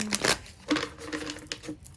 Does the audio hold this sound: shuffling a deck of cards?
yes